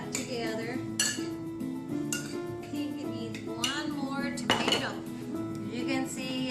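Chopped onion pieces for guacamole being mixed in a bowl, with steady clinks and scrapes of a utensil against the dish, close and continuous, under background voices and harmonic tones.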